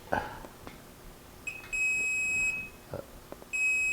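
A multimeter set to diode mode probes a shorted component and gives sustained high-pitched electronic beeps in two long tones, mixed with clicks and handling noise from the probes.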